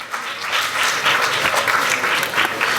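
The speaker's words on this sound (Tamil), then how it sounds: "ஒரு கைத்தட்டல் கொடுத்துடலாம்" An audience at a Tamil movie audio and trailer launch breaks into steady applause, a dense, close wash of clapping that holds for the whole stretch.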